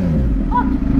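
A superbike's engine idles close by and loud, a steady deep rumble holding through the second with a brief rise in pitch partway, as if briefly revved.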